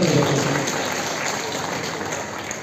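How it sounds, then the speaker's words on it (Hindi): Audience applause at a public gathering honoring daughters' achievements, a steady wash of many hands clapping at fairly close range that gradually softens toward the end, with no speech over it. "एक बार जोरदार ताली"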